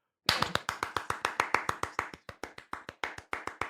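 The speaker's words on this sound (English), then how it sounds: "I'm gonna do 30 claps and you're gonna time it." One person clapping fast with bare hands, about thirty sharp, evenly spaced claps in rapid succession, close and clear in a quiet room with no talking.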